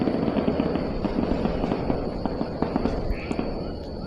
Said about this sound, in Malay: Ada maulud Nabi lagi nampaknya pakai mercun.